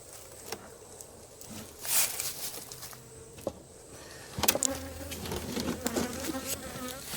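Honeybees buzz steadily around an open hive being split into two colonies, close to the listener. Scattered clicks and a louder clatter of hive parts being handled come through near the end.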